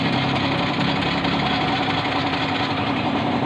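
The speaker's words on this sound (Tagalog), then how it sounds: "Tapos start natin para masubukan natin kung may kuryente pa ba itong kanyang motor" A motorcycle engine running steadily at close range, a loud, continuous rumbling idle with slight knocking and vibration.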